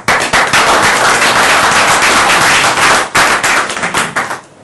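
Loud, dense clapping from an audience at a press briefing, filling the room with rapid overlapping claps that dip briefly near the three-second mark before tapering off at the end.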